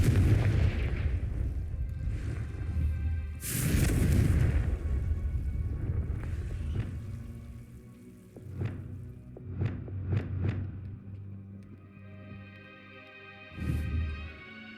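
Booming explosions from the Confringo spell in the Hogwarts Legacy video game on PS5, several heavy blasts with rumbling tails, mixed with game effects and sharp magical bursts, loud and close, no talking.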